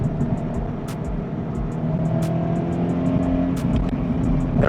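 A 2016 Scion FRS sports car pulls hard under acceleration, its engine note droning and climbing steadily from inside the cabin, with a few faint sharp ticks over the rising sound.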